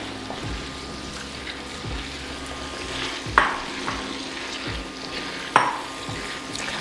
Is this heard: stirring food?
yes